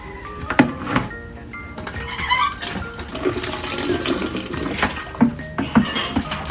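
Water gushing and splashing from a hand pump at a rural home well, with rhythmic thunks of the pump handle and uneven surges of flow, close by and fairly loud.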